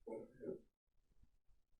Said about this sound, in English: Can you not choke on something, dog